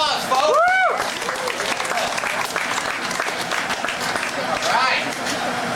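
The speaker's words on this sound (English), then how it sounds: "How about a round of applause" An audience at a renaissance festival applauds in a dense burst of clapping and cheering, with a voice calling out over the crowd at the start.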